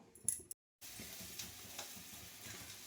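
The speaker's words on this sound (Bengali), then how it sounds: "এখানে কড়াতে তেল গরম হচ্ছে, এটা গরম হোক।" Cooking oil heating in a kadai, a faint, steady fizzing sizzle with small crackles, heard close and alone after a brief handling bump.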